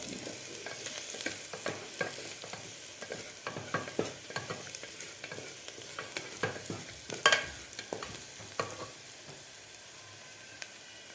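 Spices with a pinch of hing and turmeric are stirred in a hot pan for Kolhapuri misal, giving a steady sizzle broken by frequent scraping and clinking strokes of a spoon against the pan.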